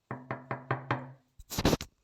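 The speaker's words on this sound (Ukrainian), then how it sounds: "Хто стука двері, чи мені здалося?" Knocking on a door in Minecraft: five even, hollow knocks in a steady rhythm, followed by a short, louder burst of noisier thumps.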